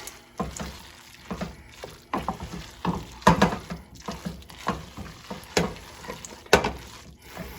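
Beef for beefy mac and cheese gets stirred in a pan, with irregular scraping and clattering strokes over a light sizzle, close and moderately loud, no voices.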